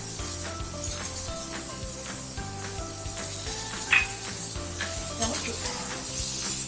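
Garlic paste fries with lightly browned onions in a pan, a soft continuous sizzle close by with spatula scrapes and brief clinks, growing slightly louder and hissier in the second half, with faint speech underneath.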